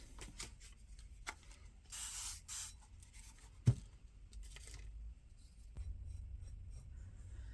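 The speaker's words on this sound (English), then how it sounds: "Spray it a little bit more." Short bursts of misting from a spray bottle while blending paint on a jar, a few quick hissy puffs amid soft rubbing and handling noises, close and fairly quiet.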